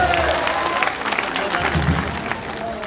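A crowd at an outdoor political rally in Gaurnadi, Barisal claps in a dense, continuous wash of applause mixed with crowd noise and some talk, fairly loud throughout.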